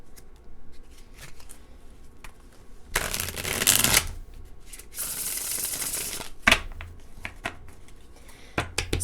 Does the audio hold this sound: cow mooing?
no